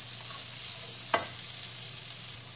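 Petai beans with bean sprouts stir-frying in a pan, a constant soft sizzle with a single sharp clink of the spatula midway.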